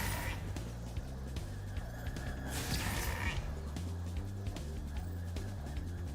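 Sheep bleating in the video game Spyro 2: Ripto's Rage (Reignited), a few bleats over a looping in-game music track with a steady low rhythmic pattern, moderately loud.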